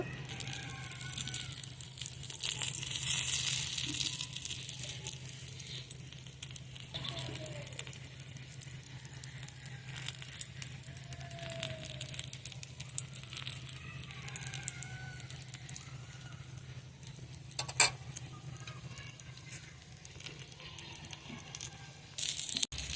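Eggplant slices fry in a pan with a soft continuous crackle and sizzle, broken by a few sharper ticks and pops, under a faint steady hum.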